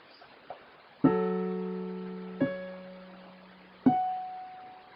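An organ plays a song melody as three sustained chords, struck about every one and a half seconds, each ringing out and fading slightly before the next, with no talking.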